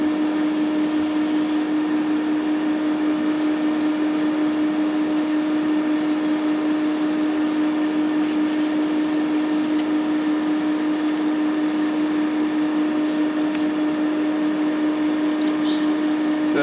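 Steady hiss of an airbrush spraying paint onto a 1/48 Airfix Messerschmitt Bf 109E model kit, with a constant compressor-like drone and a few faint clicks, continuous and close, no talking.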